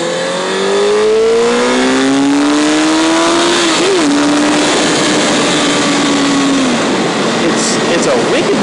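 A 2006 Honda CBR600 F4i motorcycle engine revs up close and loud, its pitch climbing steadily, dipping briefly, then climbing again before dropping off, with wind rush throughout.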